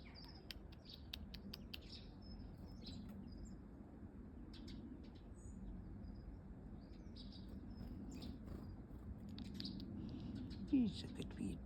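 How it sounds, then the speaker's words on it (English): Small birds chirp in scattered short bursts over a steady low background hum, faint and somewhat distant, with soft clicks and rustling throughout. "Bees buzz, birds sing, the beauties of spring abound."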